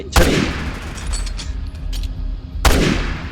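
Two loud gunshot bursts in the video game Resident Evil 6, one at the start and one near the end, with rattling echoes and game effects between them.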